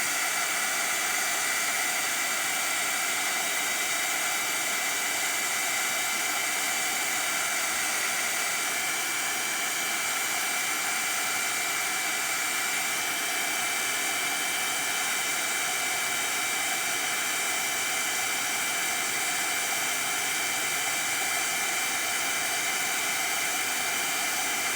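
A heat tool curing Ranger Quick Cure polymer clay blows hot air in a constant, loud, hissing roar with a steady high whine, running uninterrupted close by.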